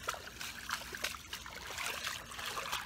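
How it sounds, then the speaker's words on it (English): Floodwater trickling and running around a house by its deck, a faint, continuous watery babble with small splashes, heard close and alone. "We got water all over the place."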